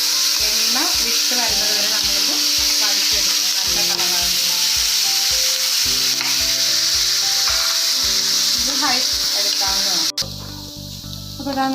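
Sliced onions sizzling and being stirred in a pan for dhaba-style paneer masala, a steady loud fry with repeated spatula scrapes and background music, ending abruptly.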